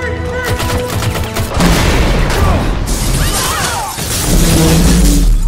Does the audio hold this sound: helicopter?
no